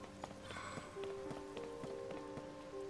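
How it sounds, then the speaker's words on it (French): Rain in the video game Zelda: Tears of the Kingdom, a faint patter of drops on surfaces, mixed with soft tonal game sounds and light steps. "Oh la pluie, c'est relou."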